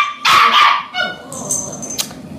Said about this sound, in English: This is my doggie, Macy.